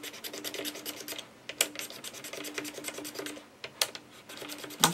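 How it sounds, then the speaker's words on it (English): Scraping gunk from the fretboard of a Gretsch New Yorker mandolin: close, dry rhythmic scratching strokes in steady bursts, with a few sharper clicks as the scraper passes over the fret dots; no talking. "scrape the top off of the board. And really, I'm just removing any gunk"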